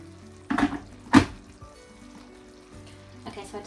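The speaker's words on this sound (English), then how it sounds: "I'm going to put some boiling water in a bowl with these to soften them up a bit" Boiling water splashes into a bowl of lasagne pasta sheets in a home kitchen, two brief pouring bursts followed by quieter trickles and a final short splash.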